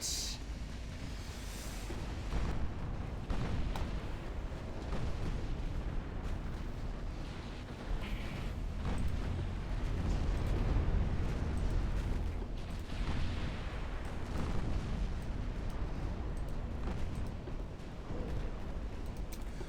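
Naval battle in the warship game Ultimate Admiral Dreadnoughts: a dense, continuous rumble of distant gunfire and muffled explosions rolls on throughout, with heavier booms swelling now and then, no voices over it.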